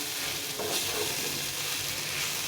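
Leftover roti pieces fry in a pan with green chilies over low gas, giving a steady close sizzle with soft scraping as they are gently stirred, no voices.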